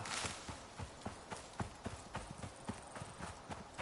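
Deer hoofsteps in the survival video game Icarus, a quick rhythmic run of hoof impacts on the ground, close and clear, repeating steadily for a few seconds with no talk.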